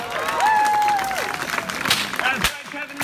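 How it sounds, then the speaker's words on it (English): An audience gives a round of applause in a talk about whip cracks and sonic booms, with clapping swelling under a presenter's voice and whistle-like tones for about three seconds. "round of applause"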